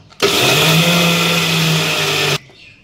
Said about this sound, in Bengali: এরপর আমি ধুয়ে রাখা এই যে তিল বা খোসলাটা আমি এরপর মিক্সিতে পিষে নেব